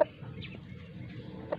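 Chickens, including a black fighting rooster, cluck softly in short, scattered bursts against a low, murky background hum.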